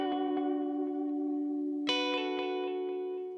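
An electric guitar track mixed in Ableton sustains a bright chord with a ping pong delay, repeats echoing in regular steps, and a fresh strum partway through sets off another cascade of echoes; no talking.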